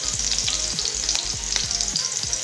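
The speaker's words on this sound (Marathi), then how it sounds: "आता आपण लसूण घालून घ्यायचं आहे आणि हिरवी मिरची घालून घ्यायची आहे गॅस कमी करून घ्यायचं आहे हे बघा मस्त फ्राय करून घ्यायचं आहे" Garlic and green chilies fry in hot oil over lowered heat for a Manchurian chili dish, producing a loud, dense, continuous sizzle right up close, with occasional stirring scrapes and no voices.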